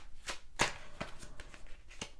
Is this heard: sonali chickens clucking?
no